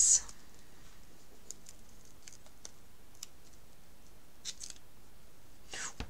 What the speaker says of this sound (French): Je viens donc redécouper 3 bouts de double face.